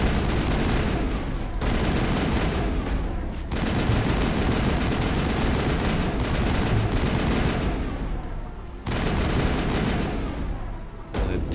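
Sustained gunfire from the video game Mass Effect roars in dense, continuous bursts with brief pauses, loud and close throughout.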